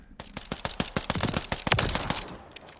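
Glock 21 pistol in Call of Duty Modern Warfare III, fired at a fast rate with a quick trigger until the magazine runs dry: a steady run of about fifteen sharp, close, loud shots.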